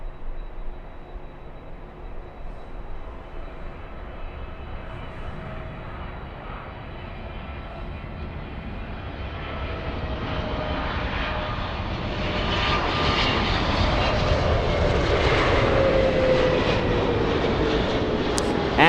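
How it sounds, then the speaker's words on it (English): An Air France airliner flies by near LAX, its engine roar growing steadily louder and broader as it approaches, ending loud and close with no voices over it. "the sound you just heard was Air France flying by"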